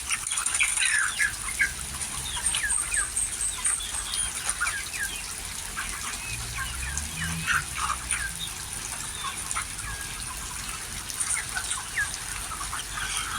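A busy farmyard scene with chickens clucking and chirping throughout, along with constant background noise and occasional rustling.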